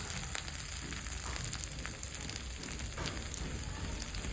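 Ginger garlic paste fries in hot oil, giving a steady, dense, close sizzle that hisses evenly without pause for the whole stretch, with no voices.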